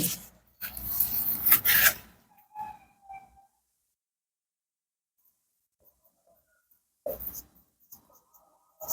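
Hand writing on a surface during a maths lesson: a few seconds of scratchy, rasping strokes at the start, then short faint marks, a long silence, and a brief burst of writing near the end, with no voice present.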